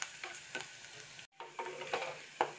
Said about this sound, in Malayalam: ഉള്ളിയൊന്ന് മൂത്ത് വരട്ടെ കേട്ടോ.